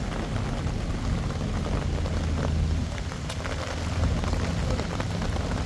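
Heavy rain pouring down at Horse Guards in London, a dense, steady roar of rainfall on hard surfaces with low rumbling background noise, continuous and fairly close, with no voices.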